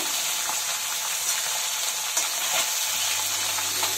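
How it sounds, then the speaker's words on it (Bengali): Small bata fish frying crisp in hot oil, a steady dense sizzle with faint crackles throughout, close and continuous with no voices. "মাছগুলোকে পুরো কড়া করে ভেজে নিব।"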